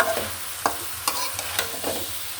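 Vegetable bhaji frying in a pan over medium heat, a steady sizzle broken by repeated scraping stirs of a spatula, close and fairly loud with no talking.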